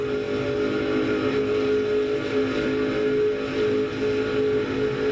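Onboard a stock race car drafting at over 205 mph, the engine roars in a loud, continuous, steady drone with no pauses.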